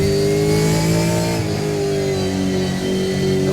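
Gen3 V8 Supercar engine in the Assetto Corsa racing game, loud and close, holding a strong steady rev with a slight shift in pitch partway through, no voices over it.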